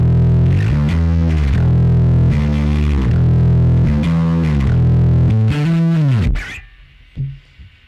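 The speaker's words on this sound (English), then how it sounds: "In the F section, I have a huge drive," Electric guitar through a huge combined drive preset on a Quad Cortex, thick, heavily distorted chords hit in a steady repeating rhythm, loud and close, then a final bend dropping away into quiet.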